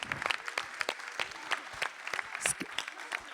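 Audience applause at a French prize-giving ceremony, a thin scattering of individual claps with distinct broadband spikes, moderately quiet and uneven, with no voices over it.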